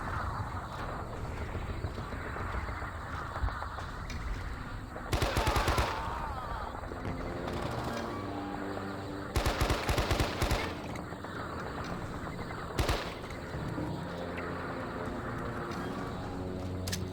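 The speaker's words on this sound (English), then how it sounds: "Damn, that artillery." Rapid machine-gun fire and artillery in the Men of Valor war game at Hill 861, a constant rattle of automatic weapons broken by several loud blasts, with faint voices in the mix.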